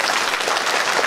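A crowd at a temple festival claps in dense, even applause lasting about a second, loud and close with no talk over it.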